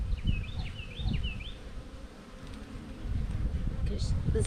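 Honey bees buzz around an open hive, a soft continuous hum close by with a few louder individual passes rising over the swarm.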